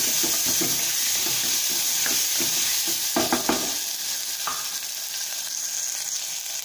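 Ginger garlic paste sizzles in hot oil in a pan for tomato rice, a loud constant frying hiss close up, with a few scraping stirs midway and no talking.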